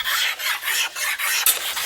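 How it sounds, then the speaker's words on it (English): Hand scraping and sanding dried glue off a wooden workpiece with a sharp scraper and sandpaper: rapid, rhythmic rasping strokes, about six or seven close, loud passes with brief gaps between them. "Now I'm going to scrape it and sand it."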